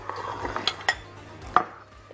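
Serving plate set down for spicy potato salad: a few scattered clinks and light knocks of dishware, close and fairly quiet, spaced irregularly with brief silence between them.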